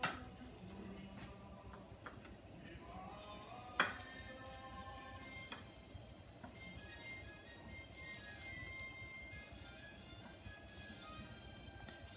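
A floured T-bone steak fries with garlic in a pan, a soft, steady sizzle heard at low volume with a few sharper clicks and clatters from the pan along the way.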